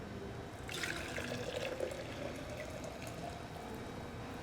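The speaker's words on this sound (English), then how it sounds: "then we want to pour it into our jar and let it cool" Steeped tea for kombucha poured into a jar, a faint steady stream of liquid with a soft trickle and bubbling, quiet and continuous, with no voices.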